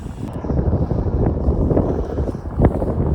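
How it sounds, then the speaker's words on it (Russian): Strong gusting wind buffets the microphone high on a crane at 120 metres, a dense, loud roar with continuous rumbling bursts and no voices. "Ветрище гуляет сегодня."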